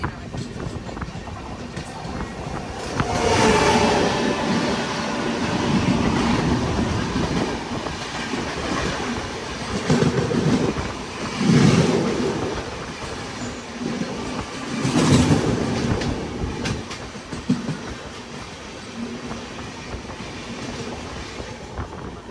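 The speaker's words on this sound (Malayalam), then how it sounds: "ഒരു ട്രെയിൻ വരുന്നുണ്ട്." A passing train rumbles close by on the Durg–Nagpur route, heard from aboard a Visakhapatnam to Korba Express sleeper coach, with continuous loud rattling and rhythmic clatter that surges in waves over about twenty seconds.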